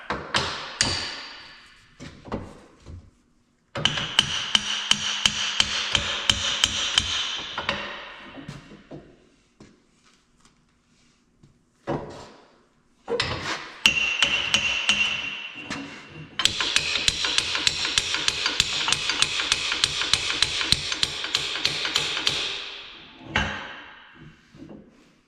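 Repeated metal hammer blows drive a wedge back out of a 7-inch post vise, coming in fast rhythmic bursts of sharp ringing strikes separated by short pauses, close and loud with no talk.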